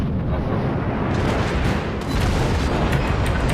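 Heavy naval gunfire from a New Mexico battleship in World of Warships, a dense, continuous rumbling roar of booms with no clear gaps, loud and alone.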